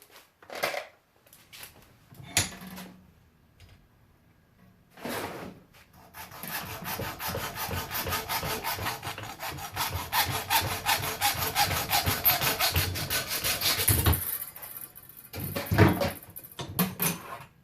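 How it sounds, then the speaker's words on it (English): A piece of metal being cut by hand for a Dodge truck rear door latch repair: a few isolated scrapes, then a long run of steady, rhythmic back-and-forth sawing strokes, close and fairly loud, ending with a few more separate strokes. "Now we're going to cut a piece of metal off"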